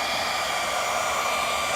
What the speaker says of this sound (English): I'm using a heat gun now just to get the first coat to dry.